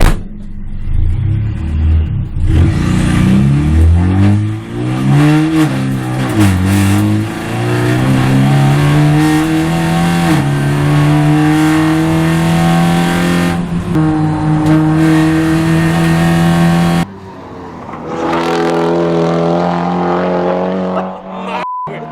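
Touring race car lapping a circuit, engine revving hard through rising and falling gear pitches, loud and close throughout with brief lifts between shifts, while voices talk over it.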